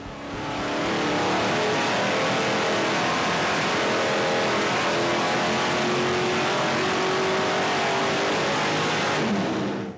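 A powerful stock V8 engine, a Pontiac Super Duty 421 or Chevy 409, roars at high revs on a dynamometer, held loud and steady for several seconds before cutting off.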